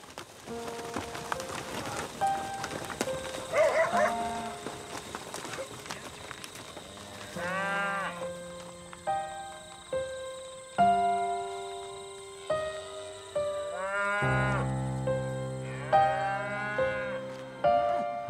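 Cattle in paddocks during a locust plague moo again and again, loud and near, with long calls coming every second or two over faint background patter.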